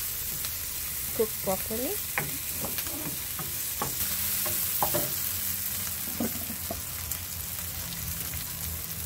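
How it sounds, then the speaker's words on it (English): Onion sweating in a pan for Jamaican curry chicken, stirred with a steady low sizzle and scattered scraping stir strokes, while a voice talks over it. "Let's keep sweating the onion until it's"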